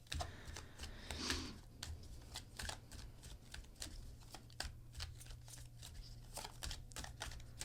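Tarot cards are shuffled and drawn close up in a quiet room, giving a run of soft riffling flutters and quick papery snaps in an irregular rhythm, with no talk.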